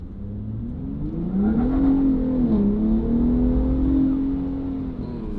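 A car accelerates hard from close range, its engine note swelling and climbing in pitch, dipping briefly at a shift, then easing off, with no voices over it.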